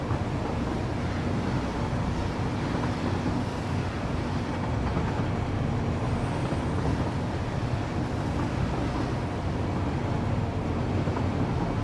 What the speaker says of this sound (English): Now you may have noticed this is a very long train ride.